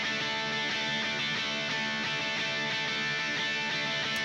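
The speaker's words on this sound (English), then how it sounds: "Yeah, just like some high-endy, shimmery kind of stuff" High, bright guitar chords ring out held and shimmering through a pop chord progression, a dense, steady wash with no pauses and no voices.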